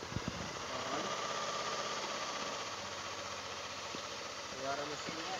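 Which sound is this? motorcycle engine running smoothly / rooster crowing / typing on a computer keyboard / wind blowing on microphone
motorcycle engine running smoothly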